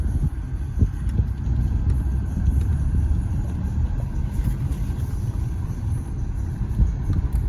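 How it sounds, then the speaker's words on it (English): A 1990 Pontiac Grand Prix STE with a 4-speed automatic transmission and overdrive drives along. It gives a steady, low engine rumble with road noise throughout and a few light knocks from the cabin. "Goes into gear nice, neutral, and then drive. And this is a 4-speed automatic with overdrive."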